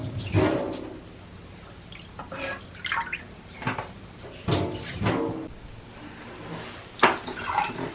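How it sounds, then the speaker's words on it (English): Toilet water is scooped out with a small cup, producing intermittent close splashes, drips and trickles separated by brief pauses. "we are going to take a small cup and we are going to start draining this"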